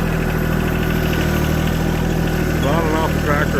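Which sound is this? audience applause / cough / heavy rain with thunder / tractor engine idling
tractor engine idling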